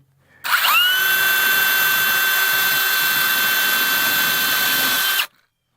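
A power drill runs steadily for about five seconds, driving a self-tapping screw into a pipe on a critter-proof raised garden bed; the whine starts sharply, holds a loud even pitch, then cuts off.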